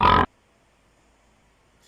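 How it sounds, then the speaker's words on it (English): A pig gives one short, loud grunt at close range, then silence follows. "That animal is a pig."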